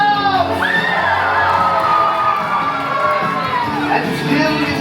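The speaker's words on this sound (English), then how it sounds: "One more hearty cheer for your captains, Mickey and Minnie Mouse!" A crowd aboard the Disney Wish cruise ship cheers loudly for captains Mickey and Minnie Mouse, with children shouting, whoops and high excited voices rising over a sustained roar that holds for several seconds.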